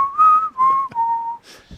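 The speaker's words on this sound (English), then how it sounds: "you just randomly start whistling it" A single person whistles the theme song from the TV show MASH alone, a clear, sustained melodic line of a few held notes with brief pauses between phrases and no talking.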